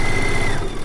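A sewing machine stitching quilt strips around the center chimney square of a log cabin quilt block, with a close, loud, rapid mechanical chatter that runs steadily for under a second.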